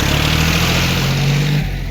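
A tractor engine idles at a Vaijapur onion market, a steady low rumble with a sustained droning hum that drops away near the end, close and fairly loud, no talking.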